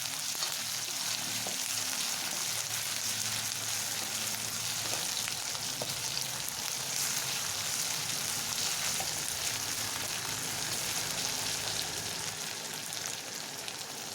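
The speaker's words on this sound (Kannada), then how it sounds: "ನಂತರ ಇದಕ್ಕೆ ನಾನು ಸ್ವಲ್ಪ ಶುಂಠಿ ಬೆಳ್ಳುಳ್ಳಿ ಪೇಸ್ಟನ್ನು ಆ್ಯಡ್ ಮಾಡ್ತಾಯಿದ್ದೀನಿ. ಇದನ್ನು ಎಣ್ಣೆಯಲ್ಲಿ ಚೆನ್ನಾಗಿ ಫ್ರೈ ಮಾಡ್ಕೊಳ್ಳಿ." Ginger garlic paste frying in hot oil for egg fried rice, a continuous dense sizzle with crackling spatter that stays steady and fairly loud throughout, no voices.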